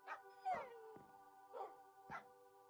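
Dogs in the video game Minecraft give four separate barks and yips, spaced about half a second apart, clear and close against near silence.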